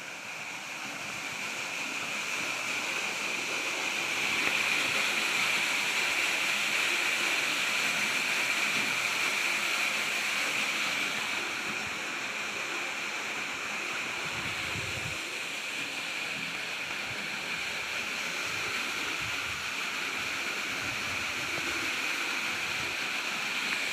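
Water flows and rushes in a steady, loud, broadband wash that runs unbroken the whole time, with faint low thumps here and there and no talking.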